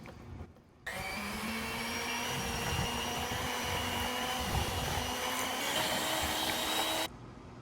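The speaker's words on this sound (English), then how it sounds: "I'm now going to just use my blender by hand for a few seconds just so I can get the plaster slightly mixed up" A handheld blender whirs continuously for about six seconds, mixing plaster investment for casting an aluminium piston, a loud steady motor drone with a grinding, churning texture.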